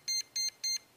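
A HobbyWing Platinum Pro 40A electronic speed controller gives three short, evenly spaced high-pitched programming beeps, clear and close with no talk.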